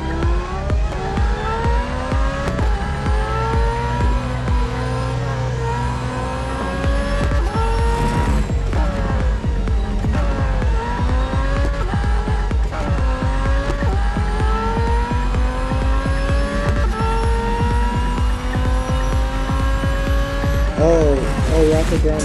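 Mazda Furious race car engine in the Real Racing 3 mobile game, a loud continuous high-revving roar rising and falling through gear shifts, with a brief tire squeal near the end, no talk over it.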